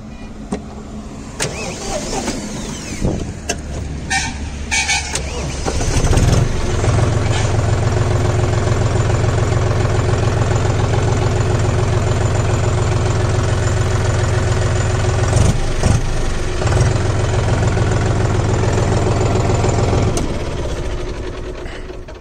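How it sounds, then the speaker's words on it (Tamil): A John Deere 5050D four-wheel-drive tractor with its gear in neutral cranks over and starts, then settles into a loud, steady diesel idle close by, with a brief rise midway before returning to an even idle. "இந்த இன்ஜினை வந்து ஸ்டார்ட் பண்ணுறேங்க, சவுண்டு எப்படி இருக்குதுன்னு பாருங்கள்."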